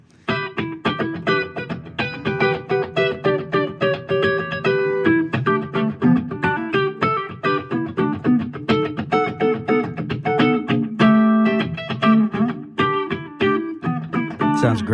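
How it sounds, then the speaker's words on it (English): Semi-hollow-body electric guitar run through its built-in analog delay, playing a funky rhythmic riff of choppy chords and single notes with echoing repeats, close and steady throughout with no talking. "It has a built-in analog delay,"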